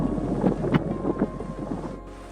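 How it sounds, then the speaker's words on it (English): Gusty wind buffets the microphone in low rumbling surges on the Greyrock Meadow Loop trail in Roosevelt National Forest, loud at first and easing off toward the end. "it's usually extremely windy right here."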